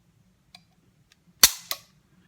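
A CZ pistol's single-action trigger is pulled, and the hammer falls with a sharp, close metallic snap, followed quickly by a second lighter click. Faint ticks come just before, in an otherwise quiet room.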